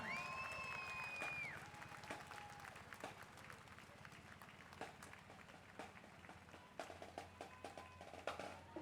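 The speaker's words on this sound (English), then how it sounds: "round of applause for our Lancer Marching Band." Crowd applause and scattered clapping for a marching band at a 2018 Memorial Day parade, faint and outdoors, with sharp individual claps and a tonal whistle early on.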